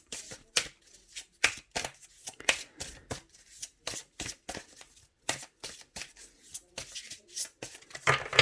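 Oracle cards are shuffled by hand for a reading, a run of quick papery riffles and slaps in an irregular rhythm, close and crisp with quiet pauses between bursts.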